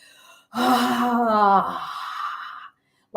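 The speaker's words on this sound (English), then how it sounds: "when you're breathing out through the mouth, there's going to be moments when you're going to breathe out like" A forceful, voiced breath pushed out through an open mouth during a breathwork drum meditation, one close, loud exhale lasting about two seconds that trails off softer before a short silence.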